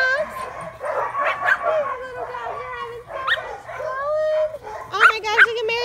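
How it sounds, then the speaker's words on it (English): Little dogs at a play yard yip, whimper and bark in short bursts close by, while someone talks over them almost throughout. "we're hanging out with our little dogs."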